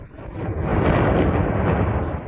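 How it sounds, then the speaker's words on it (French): A deep, roaring rumble swells and holds steady, dense and powerful like a volcanic eruption, with no voices. "Écoutez les grondements alors que la terre s'ouvre."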